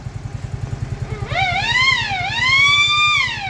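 On a Yamaha RayZR 125cc scooter, a steady engine putter gives way to a loud, close electronic siren-style horn tone that sweeps up and down for a couple of seconds.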